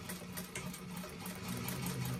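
A sewing machine top stitches a Violetta bag, its motor running in one steady, even whir close up, with no pause for the full stretch.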